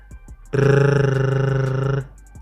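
A voice mimics a smooth revving Lamborghini engine, a steady buzzing hum held for about one and a half seconds, close and loud.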